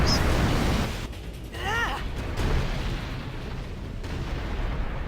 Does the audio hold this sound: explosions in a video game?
yes